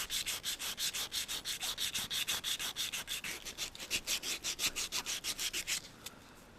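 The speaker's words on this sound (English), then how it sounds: "So move to a 120 grit, and basically I'm just feathering out the edges." Hand sanding with 120 grit sandpaper, feathering out edges on a surface, makes a steady back-and-forth rasp of about thirty even strokes, close and fairly quiet, then stops.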